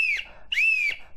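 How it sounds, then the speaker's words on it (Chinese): A toy whistle made of fruit-flavoured candy with an emoji face is blown: two loud, shrill, close blasts, then the start of a third, with short gaps between them. "哇，这口哨还真响呢"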